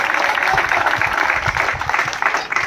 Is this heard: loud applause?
yes